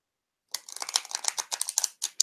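Tarot cards from an Earth Magic deck are shuffled by hand in a steady run of crisp, papery riffles and flicks, close and fairly quiet, with no voices.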